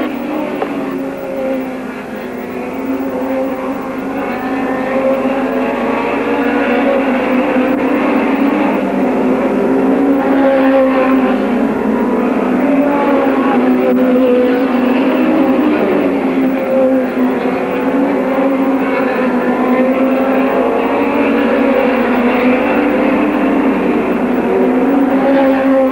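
Hot rod race cars compete in a semi-final heat, their engines a loud, continuous, droning roar that holds steady throughout, with no speech.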